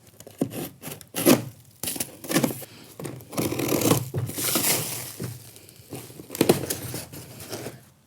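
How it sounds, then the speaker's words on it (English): Cardboard boxes holding aluminum terrace door components are opened and unpacked, giving irregular bursts of crinkling, rustling and scraping with thuds and pauses in between, close and fairly loud, with no talk. "Now it's time to unpackage the two boxes of components."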